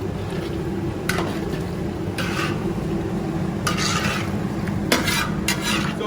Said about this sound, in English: Tomato sauce, this Filipino tomato sauce, okay? You can stir it, voila.